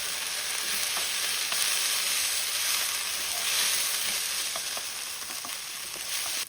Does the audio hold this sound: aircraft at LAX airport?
no